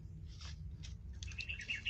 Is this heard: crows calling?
yes